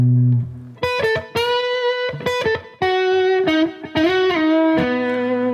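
Electric guitar with distortion plays a minor-key blues lick on the E blues scale, a run of single sustained and bent notes heard loud and alone.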